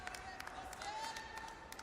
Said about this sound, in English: Crowd goes crazy down there out of that fight.